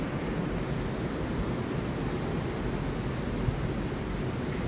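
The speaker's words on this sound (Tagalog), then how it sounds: "Yan, medyo may hangin pa rin siya." Lingering wind from Typhoon Uwan blows by a bridge in San Juan at night after the rain has stopped, a steady, close rushing roar that never lets up.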